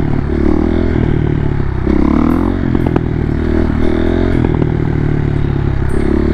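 A stunt motorcycle on a windy day, its engine droning loudly and steadily with revs dipping and rising as it is shifted into third gear, wind buffeting and clatter over it.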